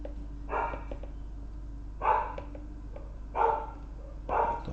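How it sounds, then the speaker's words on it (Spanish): Four short bursts of dog barking sound at a distance, spaced roughly a second apart, over a steady low room hum during a physics lecture. "Estos perros."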